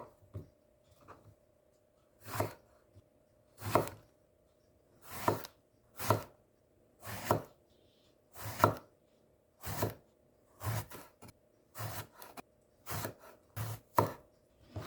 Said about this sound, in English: Have one piece of eggplant and cut.